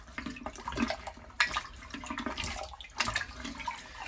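An unusual plunger forces water down the trap of a filled toilet, producing gurgling, sloshing water surges in irregular bursts at moderate volume, with no talking.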